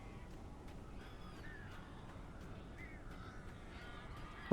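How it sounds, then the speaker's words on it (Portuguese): Crows caw repeatedly in the video game Alan Wake Remastered. The scattered, fairly faint calls rise over a quiet ambient background, followed by a brief sharp knock at the end. "tá cheio de corvo. Como é que mata corvo?"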